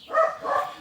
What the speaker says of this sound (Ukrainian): вибачте за собаку